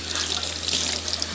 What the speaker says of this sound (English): so I'm just gonna wash these first.